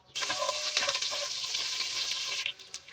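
Onion frying in oil in a pot for lentil soup, a dense bright sizzle that bursts in suddenly and stays steady for a couple of seconds before cutting off, with faint clatter.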